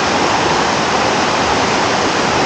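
A waterfall with four drops near Calabritto in southern Italy roars loud and steady from close by, a dense constant rush with no voices.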